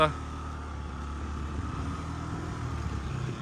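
Yamaha Jog SA36 fuel-injected scooter running as it rides off, a steady low engine drone throughout, fairly close and even in level.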